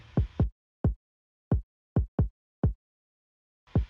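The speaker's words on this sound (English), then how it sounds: "that's the kick sample I found." Punchy kick drum hits, about eight in an irregular pattern, each short and deep with clean silence between them.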